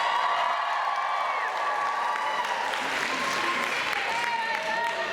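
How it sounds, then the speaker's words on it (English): Convention crowd at a cosplay contest awards ceremony applauds and cheers steadily for the whole stretch, with a few whoops rising above the dense clapping and voices mixed into the din. "Everyone cheer."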